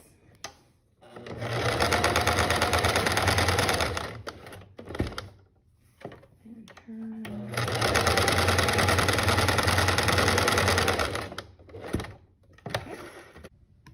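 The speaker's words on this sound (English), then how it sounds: "I don't want to sew all the way along the edge" A sewing machine stitching fabric from a bag being repurposed into a mask, running loud and close in two long steady bursts of rapid needle clatter, separated by short pauses and small handling noises.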